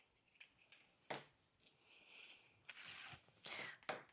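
Scissors snip through a large flower bud at close range, faint and brief, with a few quiet clicks and rustles around the cut.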